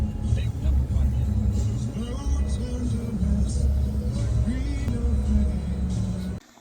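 Steady road traffic rumble from cars and buses, with engines droning and vehicles passing close by, continuing loud for several seconds and then cutting off abruptly at the end, with a voice speaking over it.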